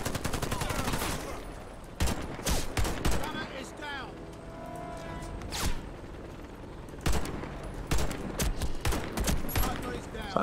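Gunfire in the video game Warface: bursts of rapid shots and sharp single reports with sniper fire, clustered in loud flurries separated by quieter stretches, with talk faintly underneath.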